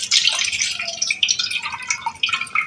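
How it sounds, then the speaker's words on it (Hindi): Sabudana (sago pearls) being rinsed in water in a kitchen, with a steady wet sloshing and dripping that runs continuously at close range and fairly loud, with no talking. "तो इसको मैं 2-3 पानी से धो लूँगी।"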